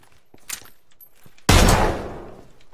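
A pistol shot in the PUBG video game: one loud, sharp blast that decays over about a second, preceded by a few faint clicks and handling noises, with no talk.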